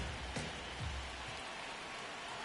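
Steady rain pours down on a baseball field in MLB The Show 26, a dense even hiss of drops with a few soft low thumps early on, heard alone and fairly quiet.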